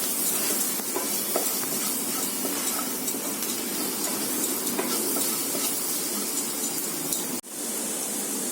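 Chilli powder and turmeric roasting in a pan, giving a dense, steady sizzle and hiss with faint stirring that cuts off abruptly near the end.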